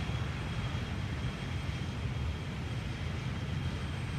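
Steady, dense roar of a BAE 146 airliner's engines, a constant broadband rumble and hiss with a faint high whine, continuous and unbroken with no voices.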